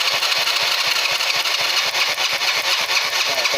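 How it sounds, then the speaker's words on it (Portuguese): The electric starter of a Honda Biz motorcycle with a no-start fault cranks continuously, a rapid, steady mechanical chugging close up with a hissing whir over it, never catching into a running engine. "a moto no start, ó, passando aqui o start dela"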